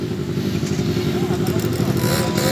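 A motorcycle rides over red sand in Unaizah, Saudi Arabia, its engine a steady, fairly close drone that runs unbroken through the whole stretch while people talk over it.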